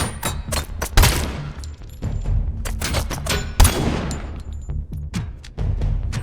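Gunfire from the video game RoboCop: Unfinished Business, a dense run of sharp repeated shots with heavy thuds at intervals, loud and continuous over a steady game backdrop with no talk.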